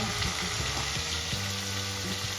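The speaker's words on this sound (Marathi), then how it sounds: "टोमॅटोची पेस्ट आपल्याला सात ते आठ मिनिटांसाठी छान परतून घ्यायची आहे" Tomato paste sautéing in a pan for a chicken kofta curry, a steady close sizzle and frying crackle with a few soft stirring scrapes, no voices.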